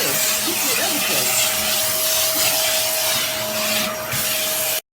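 A Vacmaster bagless cyclonic canister vacuum cleaner, corded and portable, runs with a loud, steady whooshing roar and a fixed whining tone. Faint bumps and knocks of use sit underneath, and it cuts off abruptly at the end.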